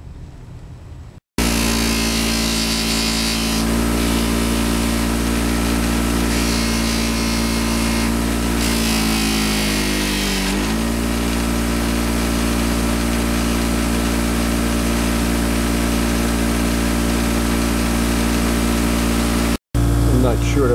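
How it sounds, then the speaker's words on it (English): A buffing wheel hums steadily while polishing aluminum motorcycle bolts, a loud continuous motor drone with brief shifts in tone as parts are pressed against the wheel, cut off abruptly near the end. "just run them on a buffing wheel"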